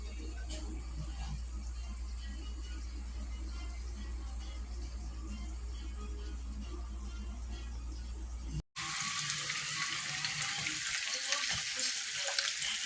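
Pork steak cooking in its own juices in a pan, a steady soft sizzle and bubbling throughout, briefly cut off then returning brighter and hissier.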